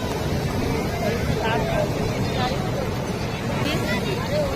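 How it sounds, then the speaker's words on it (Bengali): Sea waves wash onto Digha beach in a steady, broadband roar, mixed with wind buffeting the microphone and a faint boat engine, while people talk nearby. "জলটা আসতে শুনে দেখো"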